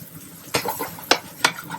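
Spices fry in a pan of caramelizing vegetables for a squash tikka masala, with a soft sizzle beneath three distinct scraping strokes of a utensil stirring against the pan.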